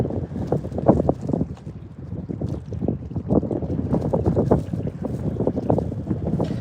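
Strong, steady wind buffeting the microphone at night while fishing, a loud continuous low rumble with gusty pulses and no break throughout.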